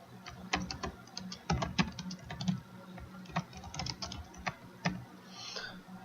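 Search keywords being typed on a computer keyboard, close irregular clicking keystrokes in quick clusters with short pauses between words, clear and alone.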